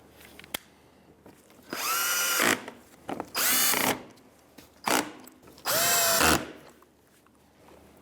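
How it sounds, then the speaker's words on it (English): A power driver runs in Phillips screws to fix a front bumper cover trim piece on a 2015-2019 Hyundai Sonata, giving several loud whirring bursts of one to two seconds each, separated by brief pauses and small clicks, with no talking. "now that your trim piece is in, we can put our 3 Phillips screws in"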